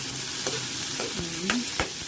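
Fatty pork pieces sauté in a pan with a bright, steady sizzle, while a spatula scrapes and stirs in several short sharp strokes over a couple of seconds.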